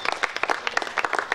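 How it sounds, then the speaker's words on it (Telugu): An audience at a student awards ceremony in a hall breaks into brief applause, a burst of sharp, uneven hand claps lasting just over a second, fairly loud and close. "చప్పట్లు కొడదాం."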